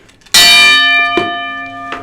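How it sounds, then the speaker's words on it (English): A boxing bell struck once, loud and close, with a bright metallic ring that decays slowly; a second lighter strike follows about a second later and another faint tap near the end. "our boxing bell"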